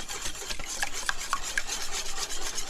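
A whisk gently stirring flan custard mixture in a bowl, giving a steady close scraping and rubbing texture with faint clinks of the whisk against the bowl.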